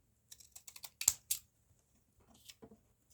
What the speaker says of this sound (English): These are probably my favourite scissors, decorative edge scissors.